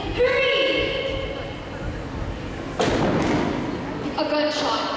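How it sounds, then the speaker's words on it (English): Gunshot sound effect in a dramatic story scene: a single sharp, loud thud bursts out midway, with a second hit shortly after, set against tense music and talk. "A gunshot."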